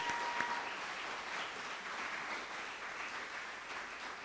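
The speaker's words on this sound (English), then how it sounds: "Round of applause." An audience at the Filmit Festival Awards Ceremony 2023 gives a sustained round of applause, a dense even wash of many hands clapping heard from a distance, steady throughout without speech.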